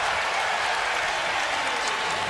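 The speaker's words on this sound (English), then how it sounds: "Off the turnover, and James gets the crowd on its feet" A packed NBA arena crowd roars and applauds after a turnover, a dense, steady wash of cheering that fills the whole stretch without a break.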